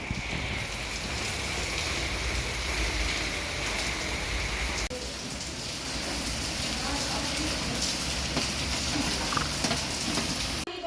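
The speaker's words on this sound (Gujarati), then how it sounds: "સર્વત્ર અંધારું છે અને વરસાદ વરસી રહ્યો છે રીમઝીમ." Light rain falls steadily in the dark, a continuous soft patter on surfaces, close and even throughout, with a faint change partway through.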